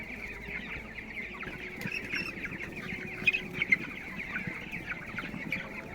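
A flock of broiler chickens in a winter poultry shed keeps up a constant chorus of overlapping clucks and chirps, with a few louder calls standing out near the middle.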